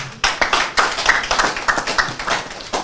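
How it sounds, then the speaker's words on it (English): Audience applause at an investiture and induction ceremony, a sustained burst of clapping hands that swells and pulses for nearly three seconds, fairly close and loud with no talking over it. "A very big round of applause for the chairman of this wonderful occasion"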